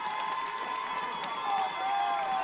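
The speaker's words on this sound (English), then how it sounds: "As the John Paul fans are cheering her on, she's trying to fire them up" Fans at a state championship softball game cheer a player who has just slid into second for a double, a steady crowd roar with scattered claps and whistles.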